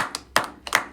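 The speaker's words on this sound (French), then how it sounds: "Nous allons applaudir, Samuel." A short run of close, crisp hand claps, three or four sharp slaps in quick succession with no crowd behind them.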